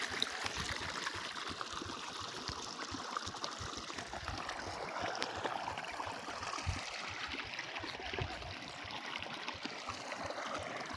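Water flows steadily through a farm canal, giving a constant close rushing and trickling wash with no voices heard over it.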